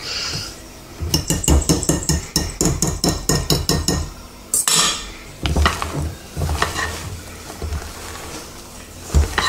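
Tiramisu cream and egg whites being folded together in a bowl: a run of steady, rhythmic clinks and scrapes of the utensil against the bowl, a brief pause, then looser, more scattered taps and swishes.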